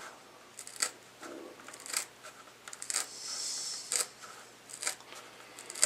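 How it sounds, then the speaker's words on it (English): Quiet, close-up snips of heavy-duty scissors cutting Kydex sheet, in an irregular series of short crisp crunches with slight mechanical creaks between them. "I got a pair of these heavy duty scissors or whatever you want to call them right here."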